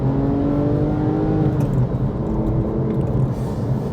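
A Porsche 911 997 Carrera 2S flat-six engine pulling while driving, a loud, close, steady throaty rumble with rising harmonic tones as revs climb, no talk over it.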